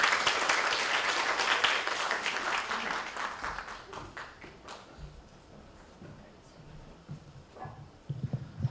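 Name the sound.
audience applause welcoming the judging chair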